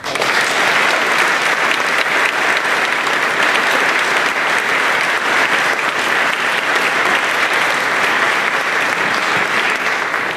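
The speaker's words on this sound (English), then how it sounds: "with another round of applause" A large audience applauds steadily and loudly throughout at a senior awards ceremony in 2019, a dense, continuous wash of clapping with no voices on top.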